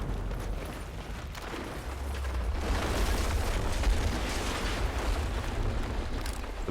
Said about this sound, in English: The building comes down